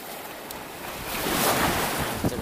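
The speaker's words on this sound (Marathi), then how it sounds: "पाणी जाम मारत आहे." Sea waves surge and crash near the shore on a coastal outing for clams, a broad steady roar that swells midway, with wind buffeting the microphone and no voices.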